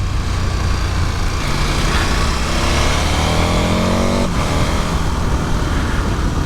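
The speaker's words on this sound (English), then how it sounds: "And the exhaust note is pretty good too." A 2022 KTM 1290 Super Adventure S motorcycle engine rumbles loud and close, with a steady exhaust note that rises briefly as it revs and then settles back, heard alone.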